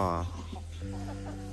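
A chicken clucks close by over a steady hum, with a short repeated call at the start and a few softer clucks afterwards.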